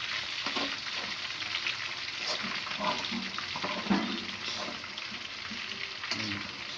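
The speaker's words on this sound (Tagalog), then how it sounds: "prito sa sarili niya mantika guys. Walang mantika yan." Pork adobo fries in its own rendered fat in a provincial kitchen, a continuous crackling sizzle at moderate level with scattered pops and spatters, while faint voices talk in the background.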